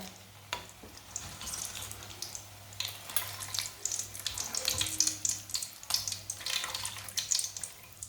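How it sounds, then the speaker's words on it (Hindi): Fried potato balls being lifted out of hot oil into a strainer, with a bubbling sizzle, light dripping and soft clinks of the utensil, close and fairly quiet, no talk. "अब इसे बाहर निकाल लेते हैं। इसे छन्नी में डालेंगे, जो एक्स्ट्रा ऑयल है वो निकल जाएगा।"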